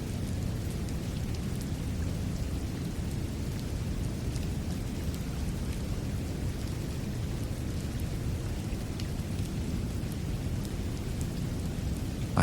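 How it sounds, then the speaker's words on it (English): Rain patters steadily against a window pane, a constant dense hiss with a low rumble underneath, lasting throughout with no voices. "Maybe it's just the rain hitting the window pane"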